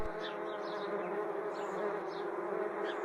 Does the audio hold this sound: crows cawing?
no